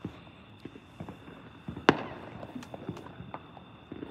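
Fireworks lit and shooting off outdoors on the Fourth of July, with a sharp loud crack near the middle amid a run of smaller pops, fizzes and launch thumps, fairly close, with no talking.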